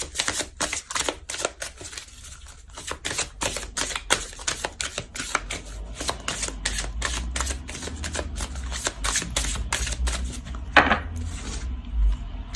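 Oracle cards are shuffled by hand in quick, crisp riffling bursts, a rapid run of sharp papery slaps up close that continues for several seconds with no speech.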